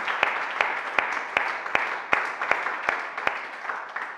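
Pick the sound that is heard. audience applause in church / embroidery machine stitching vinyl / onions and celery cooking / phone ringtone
audience applause in church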